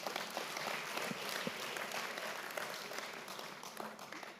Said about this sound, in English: Let's give a round of applause to our Vice-Chancellor